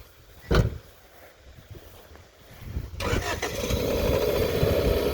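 A 1994 Honda Civic's engine cranks briefly after a thump, catches and settles into a steady idle, heard close with a little background voice.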